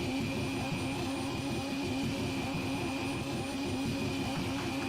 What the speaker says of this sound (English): you'll hear the engine bounce and listen to the limiter